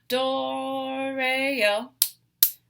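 Two sharp wooden clicks of rhythm sticks struck together, spaced about half a second apart, following a sung phrase of the Sarasponda song; the sticks ring out brief and close after the voice stops.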